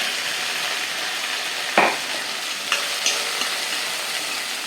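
Shredded cabbage sautés in hot oil in a pan, a steady close sizzle and crackle with a few sharp scrapes and stirs of a spatula, no voices.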